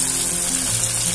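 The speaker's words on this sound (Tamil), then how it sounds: "அந்த தக்காளி அதுல போட்டுறேன். போட்டுட்டு வதக்கி" Chopped tomato sautés in a pan for Chettinad fish gravy, giving off a brief, steady, close sizzle with a faint hum beneath it and no speech.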